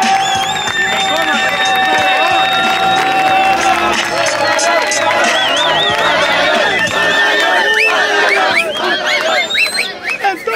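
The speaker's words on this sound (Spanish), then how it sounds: "Entonces más fuerte el aplauso" A rap battle crowd at a Liga Inmortal Clausura 2023 semifinal cheers and applauds loudly and without a break, with whistles and shouts piercing the dense roar of the audience.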